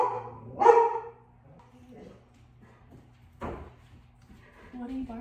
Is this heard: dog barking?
yes